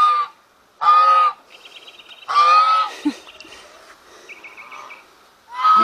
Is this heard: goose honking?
yes